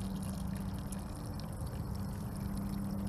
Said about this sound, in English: Somehow we are releasing a ton of water right here